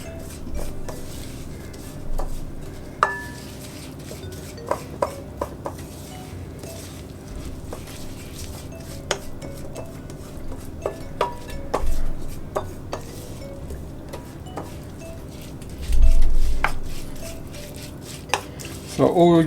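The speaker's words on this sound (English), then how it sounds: "we're going to give that a mix until it's all incorporated" Oats being stirred with melted butter in a bowl for Swedish havreflarn, giving scattered scraping and clinking of a utensil against the bowl with irregular small knocks, close and moderately quiet.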